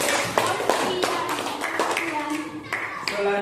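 Sparse clapping for a student group after a classroom presentation, individual claps sounding under ongoing voices in a room.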